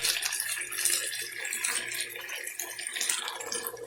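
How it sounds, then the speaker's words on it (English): Stock poured into risotto rice on medium-high heat and stirred steadily, a continuous wet hiss and sloshing with faint scraping throughout, close and fairly even. "Start adding my stock, stirring it."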